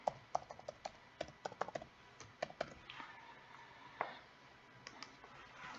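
Keys clatter on a computer keyboard in quick, uneven bursts of sharp clicks, close but quiet, with a few isolated taps after a brief pause.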